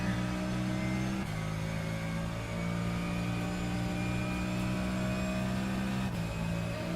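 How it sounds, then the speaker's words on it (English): Porsche 992 engine in a sim racing game droning loud and steady through speakers, a sustained mid-pitched tone with a brief dip in revs around a gear change, no talk. "That's why I like the 992 engine noise."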